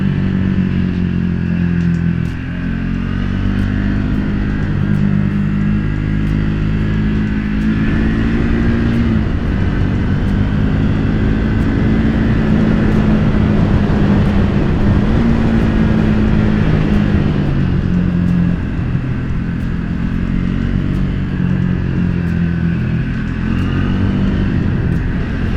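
A Triumph Speed 400 motorcycle engine drones steadily at close range as the bike rides along a road, with wind noise and slight shifts in pitch.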